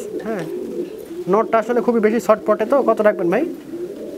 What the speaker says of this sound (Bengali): এক জোড়া অ্যান্ডালুসিয়ান মুন্ডিয়ান আছে, খুব টপ লেভেলের কবুতর